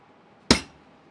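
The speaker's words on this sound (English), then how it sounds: "Let's go with the smallest hammer in my arsenal. Just a little tappy tap." A small hammer strikes a part of an ICU Medical Plum A+ infusion pump module once during a teardown, giving a single sharp, close metallic tap that fades quickly into quiet.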